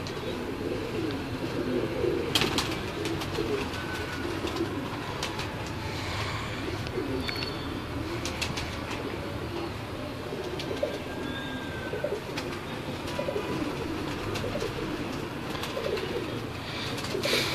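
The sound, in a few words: pigeons cooing, teddy pigeons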